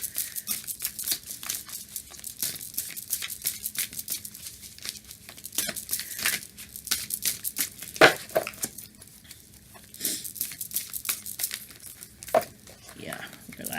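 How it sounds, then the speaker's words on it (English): A deck of spirit animal oracle cards is shuffled in a lap, giving soft crinkling, rustling and flapping sounds in irregular bursts, close and fairly quiet. "I'm shuffling this in my lap"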